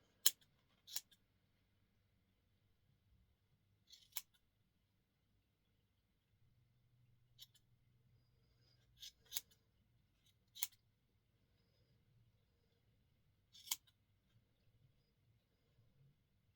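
Sharp scissors snip around a fluffy yarn pom-pom in small trimming cuts, each a brief crisp click, scattered irregularly with quiet pauses between, close and fairly faint against a low steady room hum.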